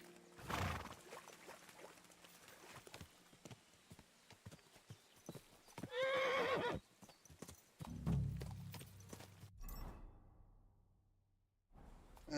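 A horse in Kingdom Come: Deliverance 2 clops along, then gives a loud, close neigh, followed by snorts and more hoofbeats before a sudden quiet; a voice is briefly heard.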